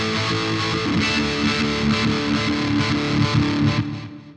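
An electric guitar played through a Boss ME-90 multi-effects unit with overdrive, modulation, reverb and delay, distorted chords ringing out with a shimmering, washy tail, loud and alone without talk.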